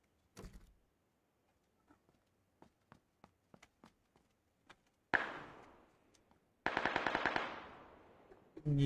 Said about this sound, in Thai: ยิงกันอยู่ข้างนอก